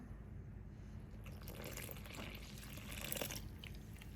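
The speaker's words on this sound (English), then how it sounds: "So let's go ahead and add our lukewarm water." Lukewarm water pours into a bowl of flour for dough, a soft, continuous trickle and splash heard up close and quiet, without talk.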